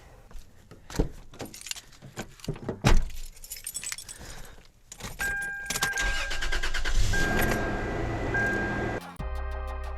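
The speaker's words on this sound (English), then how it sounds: "Now we're going to start up the engine and wait for the thermostat to kick on" Keys jangle and clatter, then a Toyota 4Runner or Tacoma engine cranks and catches after a radiator replacement, settling into a steady idle hum with a chime sounding; close and fairly loud.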